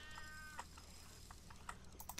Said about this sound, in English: Now shut up, cat.